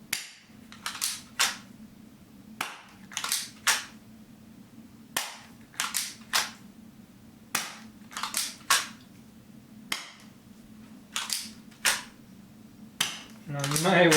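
A Galaxy M&P 9 gel blaster fires in a string of sharp, close snaps at an uneven pace, with gaps where it misfeeds, over a faint motor hum and brief speech at the end.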